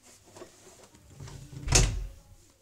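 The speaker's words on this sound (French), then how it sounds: "Je vais fermer ma porte." An interior room door swings shut with a single thud near the end, after quiet household shuffling and faint background noise.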